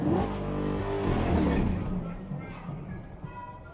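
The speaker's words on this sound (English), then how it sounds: "there was my little tiny burnout" A Chevrolet Corvette C8 E-Ray doing a short burnout at about 4,000 RPM, with a loud, close engine roar that holds steady and then fades, leaving faint tire and engine sounds.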